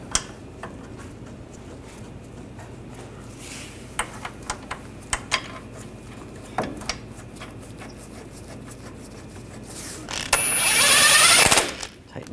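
Handling on a GMC Sierra 1500 brake and control arm assembly starting bolts: sparse metallic clicks and ticks of a ratchet and tools, quiet and close, ending with a brief louder whirring burst and a final clink.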